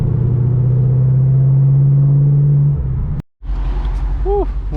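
A car cruising along the Pacific Coast Highway, a steady low engine drone with a sustained tone inside the cabin, briefly dropping out before the rumble resumes with some quieter chirps.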